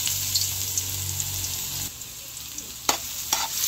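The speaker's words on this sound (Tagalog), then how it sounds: "Lalagay ko na po yung bawang at sibuyas." Garlic and onion sautéing in hot cooking oil for a spaghetti sauce: a steady close sizzle and frying hiss with a low rumble that drops away midway, then a few sharp stirring scrapes, no talking.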